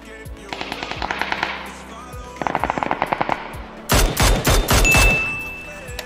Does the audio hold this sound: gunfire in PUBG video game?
yes